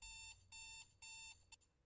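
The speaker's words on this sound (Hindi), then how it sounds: "ये मैंने अलार्म लगाया हुआ था," A phone alarm goes off with three bright, evenly spaced electronic beeps, each about a quarter second long, then a short fourth blip, faint and without any talk.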